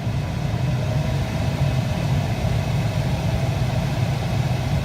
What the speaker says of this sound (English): when you turn it up all the way, you'll be stunned how much air comes out of that giant center vent